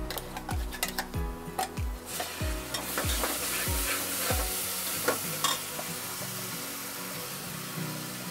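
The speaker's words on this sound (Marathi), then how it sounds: "आता हे चांगलं भाजून घेऊया बघा. तेल सुटस्तोवर छान असं भाजायचं" Ground vajri masala paste roasting in hot oil in a pan: a steady sizzle and frying hiss with rhythmic stirring clicks of a spoon against the pan in the first half, close and clear with no talk.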